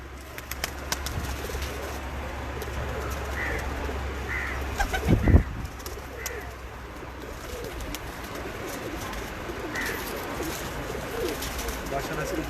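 Domestic pigeons coo softly from a rooftop loft in low, repeated calls, with a steady hum of background noise and a brief louder burst partway through.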